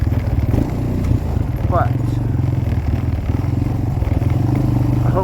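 A Suzuki LTZ 250 ATV engine runs close by while riding through woods at night, a steady pulsing thrum with clattering and scraping from the terrain and a brief spoken word.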